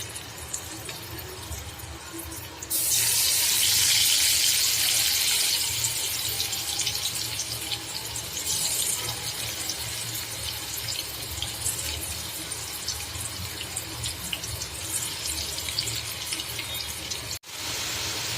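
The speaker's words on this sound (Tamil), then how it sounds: "இப்போ இதை ஒன்று ஒன்றா சேர்த்து ப்ரௌன் கலர் ஆகிற வரைக்கும் ஃப்ரை பண்ணி எடுத்துக்கலாம்" Elephant yam slices added to hot oil in a kadai for a wedding-style varuval burst into a rushing, hissing sizzle that settles into a steady fry, with no talking.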